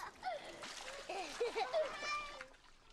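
Water splashes over a child's head in a Teletubbies-style children's programme, a few short splashes and sloshes heard close up, with a voice and other speech over them.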